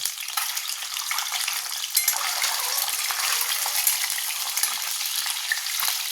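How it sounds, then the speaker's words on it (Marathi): Boiled eggs, still wet, frying in hot oil for egg curry, a dense close crackle of spluttering and popping that continues steadily, fairly loud, with no speech. "त्यात जराशी अंडी फ्राय करून घेऊ. पाणी होतं त्याच्यामुळे तडतडत आहे."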